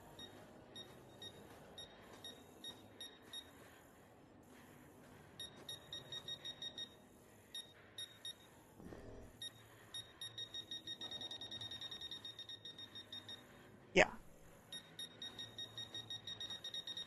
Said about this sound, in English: I can hear another one beeping off somewhere else.